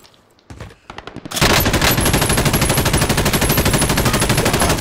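Automatic gunfire in Call of Duty: Modern Warfare, a few scattered shots followed by a sustained rapid burst, loud and close with a rattling mechanical rhythm.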